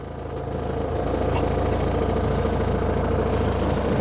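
A recovery truck's engine runs after a new battery is fitted, settling into a steady, rhythmic idle with a low throbbing pulse, close and continuous.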